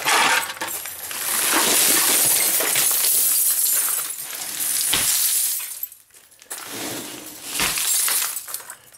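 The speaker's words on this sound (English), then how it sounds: "Pretty cool breaking glass." A glass window pane smashed while scrapping, harsh crashing and tinkling shards in bursts over several seconds, close and loud, with brief quieter gaps between impacts.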